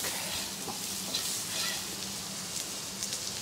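Sautéing in a pan while cooking pork paksiw: a steady, close hiss of sizzling with soft stirring scrapes scattered through, moderately quiet, with no voices.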